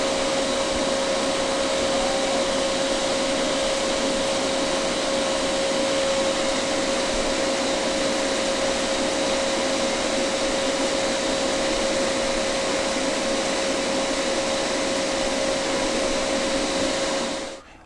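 A refrigerant reclaimer machine recovers refrigerant from a Whirlpool refrigerator, droning loudly and steadily with a constant tonal hum for the whole stretch before cutting off abruptly at the end.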